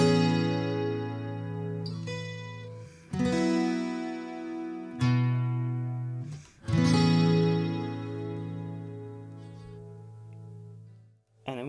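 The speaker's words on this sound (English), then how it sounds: "This is the double detune chorus that it comes with" Yamaha TransAcoustic guitar played through its built-in double detune chorus, sustained strummed chords ringing out and decaying with a shimmering doubled tone, several strums in succession, no talk.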